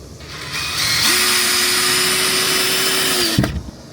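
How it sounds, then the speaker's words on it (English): A power drill drives drywall screws into wooden framing while a van is prepared for shipping. A short whine ramps up into a steady motor drone for a couple of seconds, then cuts off with a faint clunk. "I'm just initially tacking this down with some drywall screws just to hold it in place"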